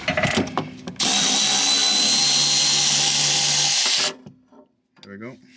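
A wrench rattles loose a 16mm sway bar link bolt on a BMW E46 M3 in one loud, steady burst of about three seconds. Quieter clatter comes before it and faint voices after.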